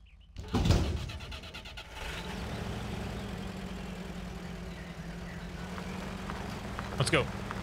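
A truck in the off-road mud game Spintires: Mudrunner gives a low, steady engine hum that runs the whole time, fairly quiet, with a brief clunk near the start and another near the end.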